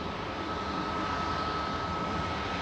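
An Etihad Airways airliner in green livery, arriving at Manchester Airport on a flight from Abu Dhabi, gives a steady, moderately loud jet roar with a faint high tone, unbroken and with no talk.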